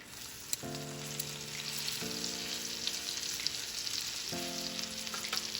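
Filet mignon tenderloin sears in a preheated cast iron pan, giving a steady loud sizzle and crackle throughout, with a few low tonal hums starting and stopping under it.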